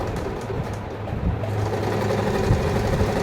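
Sewing machine stitching a box pleated skirt, with a close, loud, continuous motor whir and rapid needle rhythm that runs the whole time and slightly speeds up after the first second.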